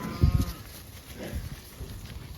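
Cattle in a mob on a pond dam give a short, low lowing call near the start, followed by quieter shuffling and faint calls in the open air.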